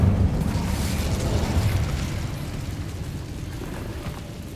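Incendio fire spell cast in the Hogwarts Legacy video game, a loud low rumbling burst of flame that roars steadily and slowly fades over several seconds.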